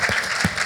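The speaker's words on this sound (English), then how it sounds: "Round of applause for Ross, please" Short burst of audience applause at the Crossmedia Toronto 2013 conference after a presenter finishes, a dense patter of many hands clapping at moderate volume, with a couple of louder claps near the start and middle.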